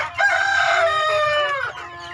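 Young roosters on a small backyard chicken farm crow a long, bright cock-a-doodle-doo up close, with hens clucking softly in the background.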